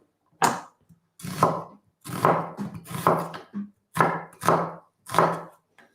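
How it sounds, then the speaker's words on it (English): A knife chops through a whole onion on a cutting board, cutting slices about half a centimeter wide, in a kitchen. Close, crisp cuts come in quick rhythmic bursts of two or three strokes with short pauses between, and no talking. "And I'm not cutting them super thin."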